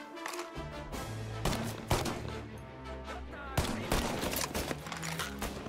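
A Tommy gun firing in the video game Mafia: Definitive Edition, with loud repeated bursts and sharp individual cracks over a low rumbling game soundtrack.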